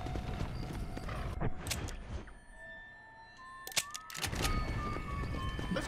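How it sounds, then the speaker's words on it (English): Horse hooves clip-clopping in Red Dead Redemption: Undead Nightmare, rhythmic galloping beats that drop away briefly and return, with clicky game effects layered over the run. "Get on the fucking horse and get to whatever this place is"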